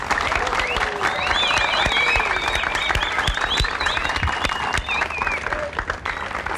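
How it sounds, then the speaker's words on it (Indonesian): Loud crowd applause for Hotel Bali Cliff during a show in Bali, a dense continuous clapping with cheers and whistles mixed in, while a voice talks over it. "Saya harap kalian semua memberikan tepuk tangan yang semeriah-meriahnya untuk Hotel Bali Cliff."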